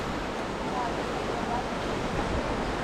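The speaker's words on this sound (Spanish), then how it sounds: "está bien salvaje el río. Estuvo lloviendo mucho anoche" Fast-flowing river in the Ecuadorian Amazon near Puyo, swollen after a night of heavy rain, rushing as a steady broadband roar at moderate level throughout, with no voices.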